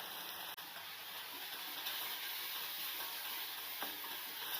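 Green chilli, tomato and ginger-garlic paste sauté in hot oil for chana masala, giving a steady, close sizzle and hiss throughout with a couple of faint clicks.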